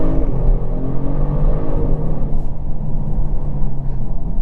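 A 2022 Genesis G70 3.3T Prestige AWD engine pulls hard in second gear, a loud, steady low rumble rising slightly with the revs, heard from inside the cabin with no talking.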